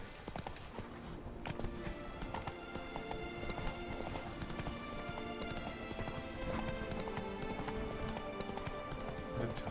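Roach the horse gallops in The Witcher 3: Blood and Wine, with steady rapid hoofbeats clip-clopping continuously under game ambience and music, moderately loud and unbroken throughout.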